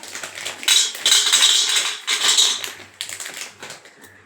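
Black urad dal with cashews and a few cardamom pods being dry-roasted in a pan for laddu, giving steady close scraping and clinking of a spoon against metal in repeated bursts, with no talking.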